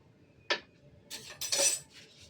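A metal spoon stirs ingredients into basanti pulao in a pot, making a sharp clink followed by a cluster of scraping, chinking strokes, close and clear in a quiet room.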